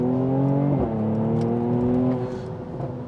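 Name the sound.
Mercedes C43 AMG accelerating with gear changes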